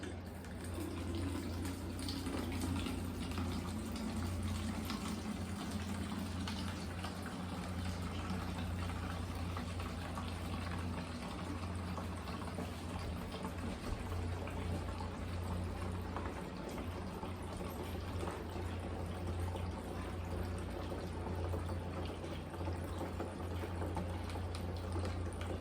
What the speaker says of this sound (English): I got my little imbuto with the strainer, and let's let the wine flow